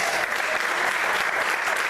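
A church congregation claps together in a thick, continuous burst of applause during a sermon, loud and close, with no pause across the short stretch.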